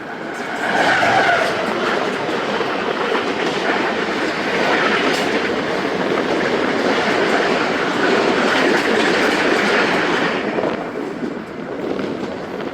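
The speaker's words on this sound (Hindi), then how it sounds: "उकाड़ा पहुंच रही है ट्रेन हमारी" A Karachi Express passenger train runs between Multan and Lahore toward Okara station, its loud continuous rumble and rattling rail clatter heard close and steady throughout, with no talking.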